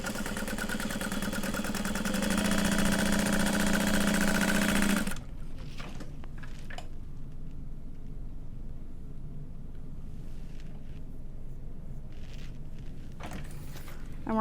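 A sewing machine runs a 1/4-inch seam in one loud, steady mechanical buzz for about five seconds, then stops, leaving quiet room noise and a few faint handling clicks.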